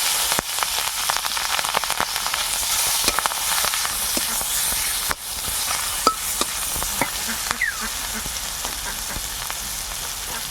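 Onions and green chillies frying in a pan over a village cooking fire, with a steady loud sizzle broken by a few stirring scrapes and clacks, and no talk.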